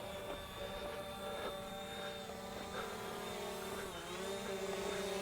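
A Fimi A3 drone hovers and descends to land, its propellers producing a steady high-pitched whine with a faint buzzing hum, distant and quiet with slight pitch shifts as it comes down.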